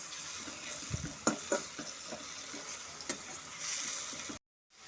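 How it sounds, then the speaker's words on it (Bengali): Spice paste of onion and garlic frying in oil for katla rezala, a soft continuous sizzle with scraping and knocking of a spoon against the pan while it is stirred, close, before an abrupt cut to silence. "যতক্ষণ না তেলটা ছেড়ে যাচ্ছে মশলা থেকে, ততক্ষণ আমি এভাবে নাড়তেই থাকবো।"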